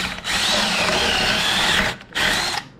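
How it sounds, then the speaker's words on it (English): A power drill drilling out a worn suspension bushing on a Ram 1500 pickup, a loud close whine running steadily for about two seconds, a brief pause, then a second short burst. "I'm drilling this out."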